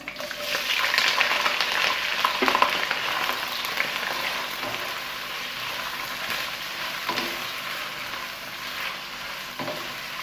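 Onions fry in four tablespoons of hot oil in a pan, making a loud, dense, continuous sizzle that slowly eases, with occasional utensil knocks, heard close and without talk.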